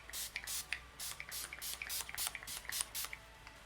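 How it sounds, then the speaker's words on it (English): Essence Keep It Perfect makeup fixing spray misted in a series of quick, soft pumps, about a dozen short hissing bursts in irregular rhythm, close and quiet with no talking. "I'm going to set my face using the Essence Keep It Perfect Makeup Fixing Spray."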